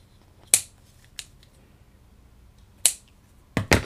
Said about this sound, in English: You can cut them at different lengths too if you want